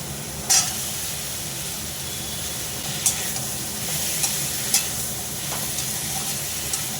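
Potatoes fry in a pan with ginger paste and chilli paste, giving a steady close sizzle broken by a few light taps of a spoon. No one speaks.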